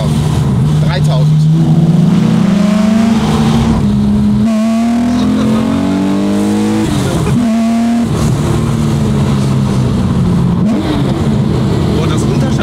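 Loud car engine rising through the revs with strong harmonic sweeps, then blipping and dropping as it downshifts, with repeated surges and falls under excited talk from people in the car.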